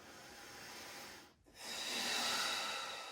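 Deep breathing during a vinyasa yoga hip stretch: a long, close, airy exhale, a brief pause, then a full hissing inhale, loud and alone with no talking.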